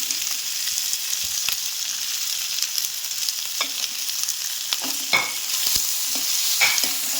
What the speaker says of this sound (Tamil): அடுத்தது வெட்டி வச்ச வெங்காயத்தை போடுறோம்